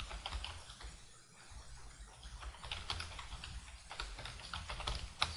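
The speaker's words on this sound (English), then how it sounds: "Just type in quickly." Quick typing on a computer keyboard into a text editor, a steady stream of close, light key clicks throughout with no talking.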